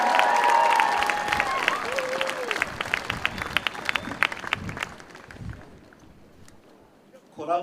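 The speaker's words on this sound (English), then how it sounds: "Please give him a round of applause" A crowd at an outdoor protest against hospital cuts in Dunedin applauds a speaker with dense, sustained clapping and some cheering that slowly thins and fades out.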